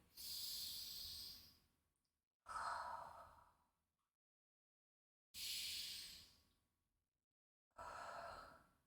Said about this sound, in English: Inhaling, exhaling.